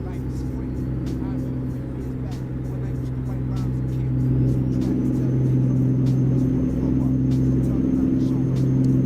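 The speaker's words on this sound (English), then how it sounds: "I don't know why I'm chilling in that gear over revving the truck" A Freightliner Classic truck engine held in too low a gear and over-revving in a heavy-haul truck driving game makes a loud, steady, harmonic drone that grows louder and stronger about halfway through.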